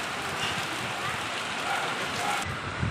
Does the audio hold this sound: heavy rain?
yes